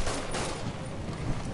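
Video game gunfire, a brief, dense burst of rapid shots with no talking over it.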